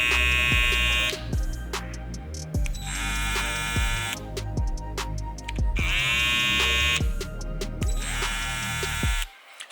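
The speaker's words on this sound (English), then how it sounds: "Let you get the sound check comparatively." A Babyliss FX3 Influencer Edition hair clipper hums in close, loud bursts that switch on and off several times, with clicks and handling knocks between the runs of the motor.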